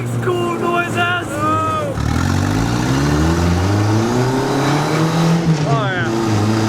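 Homemade turbocharged dune buggy on its first drive, engine revving and accelerating with rising and falling pitch, turbo whine audible, close and loud, with people talking excitedly over it throughout.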